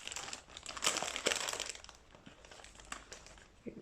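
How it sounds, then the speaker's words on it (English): Close, irregular crinkling and crackling during a quiet cross-stitch session, with a dense burst of crinkles in the first two seconds and a few sharper, scattered crackles after; no one speaks. "You're hearing some crinkling noise"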